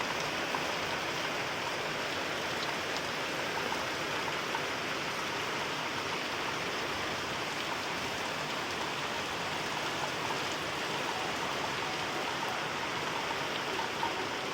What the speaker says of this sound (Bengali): এখন দেখতে পাচ্ছি বৃষ্টিটা হচ্ছে ফাইনালি এত জোরে বৃষ্টি পড়ছে